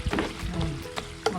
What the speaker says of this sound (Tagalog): pakuluan nyo lang ng pakuluan hanggang sa ay maging latik